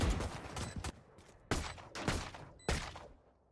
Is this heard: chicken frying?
no